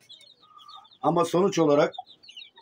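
Chickens cluck and chirp faintly in a coop, with soft high calls running throughout, while someone talks loudly over the middle of the clip.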